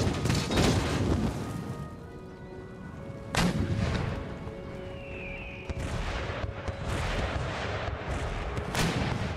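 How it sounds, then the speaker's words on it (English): Artillery howitzers firing carcass shots in the Empire Total War video game: a dense, continuous din of booming cannon fire and distant gunfire, with sharper reports standing out every few seconds. "Howitzers are still firing carcass shots."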